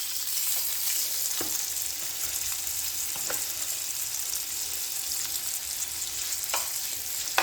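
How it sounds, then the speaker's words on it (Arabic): Liver frying in hot oil, a loud continuous sizzle with occasional sharp crackles and pops, no voices. "عملت سخن الزيت. تمام. انزل بقى بالكبده بتاعتي"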